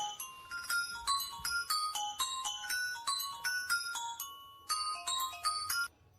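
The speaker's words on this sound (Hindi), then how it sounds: "देखो ये सो रहा है और इसका फोन बज रहा है।" A mobile phone rings with a quick repeating electronic chime melody, steady and fairly faint, looping several times before stopping.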